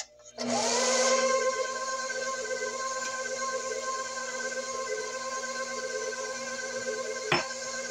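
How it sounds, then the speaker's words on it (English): A stand mixer restarted in second gear while eggs are beaten into a batter, starting with a loud whirring surge, then a steady mechanical hum with a harmonic whine that runs without a break, close by with no talk. "Start it back up in second gear, and we continue adding the rest of our eggs"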